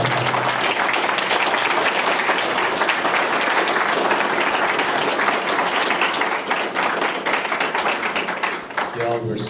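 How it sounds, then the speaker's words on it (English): Loud, dense audience applause fills a community masjid gathering, a steady roar of many hands that runs unbroken for nearly ten seconds and thins slightly at the end. "Let's give them a round of applause."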